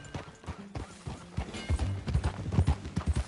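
Horse hooves clip-clopping in Red Dead Redemption 2, sparse at first and then settling into a quick, close, rhythmic trot of thudding steps, with a faint voice briefly heard early on.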